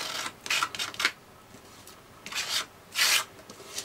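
Excess paste being scraped off a honeycomb stencil, heard as a few separate close rasping strokes in two clusters with quiet gaps between them.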